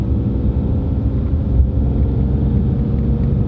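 Tuned Mercedes-Benz engine and exhaust giving a deep, steady, throaty rumble, loud and close, holding an even drone without a clear rev change or any voices.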